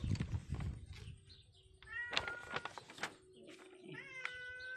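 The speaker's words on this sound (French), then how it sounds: "Ça, c'est le petit chat que je garde." A small pet cat being looked after indoors meows several times, with short rising cries scattered among soft household rustles and a faint voice.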